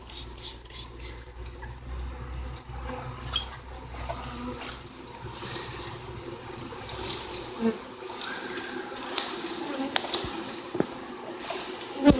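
A low, wavering hum of buzzing honeybees being dumped into a temporary hive fills the background, mixed with scattered knocks and rustling handling sounds nearby.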